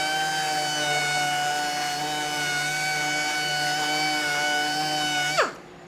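A small 3mm orbit sander from Woodturners Wonders hums at a steady, whining pitch close by, then is switched off and quickly winds down to near silence.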